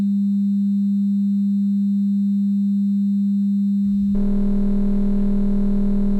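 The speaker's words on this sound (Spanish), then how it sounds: "Vamos a colocar la señal de 200 Hz y al mismo tiempo, después, le vamos a sumar la de 20 Hz" A steady 200 Hz sine tone hums alone, then a 20 Hz sine tone is summed in, producing a throbbing, beating interference for the final two seconds.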